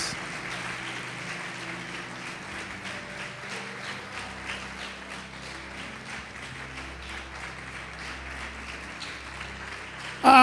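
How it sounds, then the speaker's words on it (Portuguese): A church congregation claps in praise, a long, moderate wash of applause over sustained keyboard chords, with scattered louder claps standing out near the end. "Então vamos aplaudir o nosso Pai."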